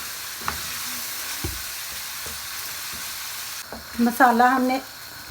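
Tomato-onion masala for dhaba-style dal palak fries in a pan, a soft steady sizzle beneath a few scraping stirs and presses, with a short burst of voice near the end.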